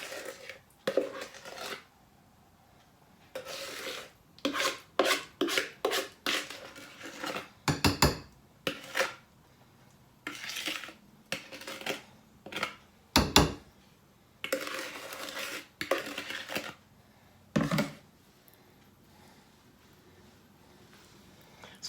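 Spatula or spoon scraping brownie batter out of a bowl into a pan sprayed with cooking spray, a series of short, close clinks and scrapes in irregular bursts separated by quiet pauses.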